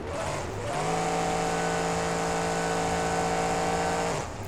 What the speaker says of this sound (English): You can hear the truck is revving quite loudly, but the gearing's not all that good.